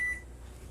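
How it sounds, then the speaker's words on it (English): A single short electronic beep from an oven timer being set for a three-hour beef rib cook, high and clear at the very start, then fading into quiet room hum. "Set our timer for 3 hours."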